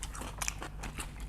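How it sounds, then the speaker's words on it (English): Crunchy bites into a fresh cucumber at close range, a few sharp crisp snaps followed by wet chewing, with no talk. "just eat a cucumber."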